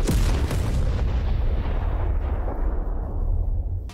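Big C4 explosion in the video game Teardown, a loud booming blast at the start with further cracking bursts, then a long rumbling, debris-filled decay that fades over several seconds.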